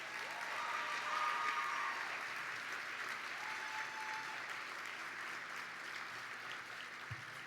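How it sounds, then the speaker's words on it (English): An audience at a gala applauds in steady, sustained clapping that sounds fairly distant and even, with faint tonal hums and a brief thump near the end. "So can we please give her a big round of applause?"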